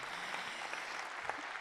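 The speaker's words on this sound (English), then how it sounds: "yes, that is definitely worth clapping for." At the Grand Ole Opry, an audience claps in a faint, steady patter of many hands, heard from some distance for a short moment.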